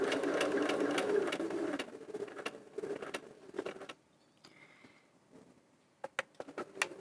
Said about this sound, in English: you know you're going to sew straight because you've got a line to sew on, so hopefully you can sew on the line.